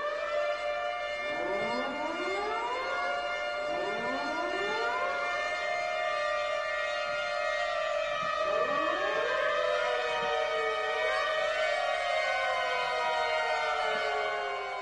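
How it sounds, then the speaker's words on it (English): Several loud wailing sirens rising and falling in overlapping sweeps, sustained and continuous throughout. "of these loud sirens that, for me, indicates this disruption"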